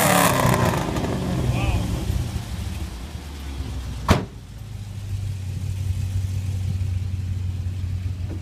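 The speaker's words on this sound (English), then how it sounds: "Eric, let's hear the exhaust again." A 2006 Pontiac GTO muscle car idles with a deep, steady exhaust rumble, rising in a rev early on before a sharp brief knock near the middle, then settling back to a low constant drone; voices are heard over it.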